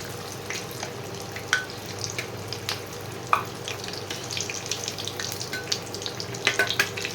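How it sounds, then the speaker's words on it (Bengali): Fish cutlets made from Bombay duck frying slowly over lowered heat in a pan, giving a steady soft sizzle with scattered crackles and pops, close and fairly quiet, with no talking. "একটু টেম্পারেচারটা কমিয়ে দেবে, কমিয়ে দিয়ে আস্তে আস্তে ভাজবে, তাহলে খুব সুন্দর ভাজা হবে।"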